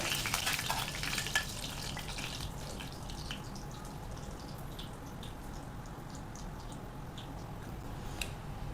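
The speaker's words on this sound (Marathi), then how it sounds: "अर्धा चमचा मी इथे ओबडधोबड अशी बडीशोप कुटून घेतलेली आहे, ती यामध्ये घालून घ्यायची आहे आणि याला छान असं तळून घ्यायचं आहे" Mustard, cumin and coarsely crushed fennel seeds fry in hot oil for a spicy raw mango curry, giving a steady close sizzle with light crackling that is loudest at the start and then settles into an even hiss.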